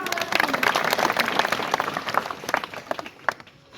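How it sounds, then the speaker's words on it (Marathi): Short burst of audience applause at a Marathi felicitation ceremony, many hands clapping together fairly close, swelling briefly and then trailing into scattered claps. "परत एकदा टाळ्या सर्वांनी वाजवा"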